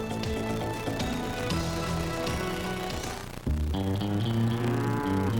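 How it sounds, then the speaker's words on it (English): Cattle moo on a Wyoming ranch, several long, low calls overlapping near and at a distance, with a louder bellow breaking in partway through. "Melvin and Lola Zumbrunnan have a cattle ranch in Lusk, Wyoming."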